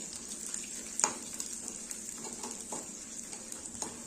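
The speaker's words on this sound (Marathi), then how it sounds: "तूप इथे गरम झालेलं आहे आपण थोडं थोडं डिंक्यामध्ये काढणार आहोत आणि छान असं फुलवून घ्यायचं" Edible gum pieces frying and puffing in hot ghee, a steady close sizzle with a few sharper crackles and pops throughout.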